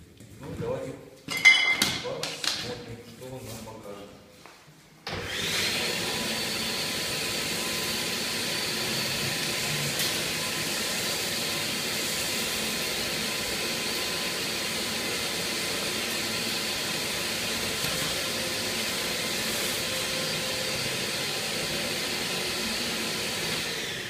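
An empty household vacuum cleaner runs with a steady, loud whine and roar after a few seconds of clinking and handling, continuing unbroken to the end.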